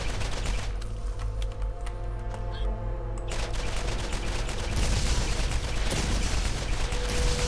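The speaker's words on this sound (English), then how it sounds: "Trying to blow a shield off with a shock weapon here." Shock weapon fire hitting an enemy shield in Borderlands, dense crackling bursts of rapid shots over a loud continuous din, briefly dropping out before resuming.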